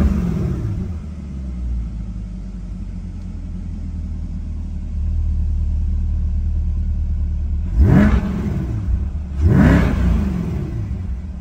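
A Corvette C8 with aftermarket round exhaust tips in place of the factory resonated square tips, a deep idle rumble that rises into two sharp throttle blips near the end, loud and close, no talking.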